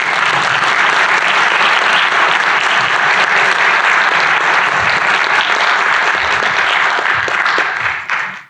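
A hall audience at the 2023 ACNS Gloor lecture applauds Thomas Black as he receives the Pierre Gloor Award. The clapping is loud, dense and steady for about eight seconds, then fades out at the very end.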